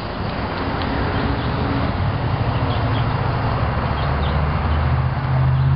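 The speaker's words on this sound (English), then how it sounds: "you can hear that slight buzz, but that's the sound of the electric motor pushing it." Faint buzz of an electric bike trailer's motor pushing it while riding at speed, a steady hum under loud wind and road rumble.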